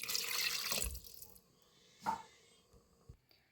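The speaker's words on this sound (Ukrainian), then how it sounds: "І сюди ж потрібно влити 200 мл води." Water pours steadily into a pot of beef bourguignon for about a second, a bright splashing rush that stops, followed by a few soft clinks and knocks in a quiet room.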